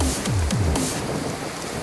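Steady broadband rush of a rain-swollen waterfall and river flowing through forest at Akame 48 Waterfalls in Japan, loud and continuous throughout with no talk, a few low swooping tones near the start.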